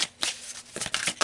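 Tarot cards shuffled and pulled from a deck, a few quick papery riffles and flicks in short bursts with gaps between, close and fairly faint.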